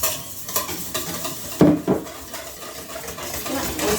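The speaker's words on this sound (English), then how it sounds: "Whisk it until it's thoroughly combined" A whisk scrapes and taps in a bowl as cornmeal muffin batter gets mixed, producing rhythmic stirring clinks with a couple of sharper knocks midway.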